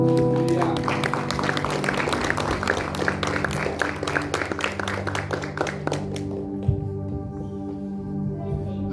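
Church congregation clapping hands in praise during a worship service, a dense rhythmic patter of many hands with music tones underneath, fading out toward the end.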